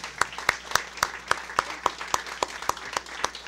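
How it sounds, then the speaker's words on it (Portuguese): Evenly spaced claps ring out in a steady rhythm from a small audience, applauding three panelists at a housing and urban land-use discussion; the clapping is fairly close and continues throughout, with no voices. "a minha recomendação é uma salva de palmas aqui para as três presentes"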